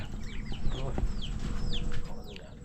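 Chickens cluck and squawk in short bursts over a steady noisy outdoor background, with a few rising bird calls scattered throughout.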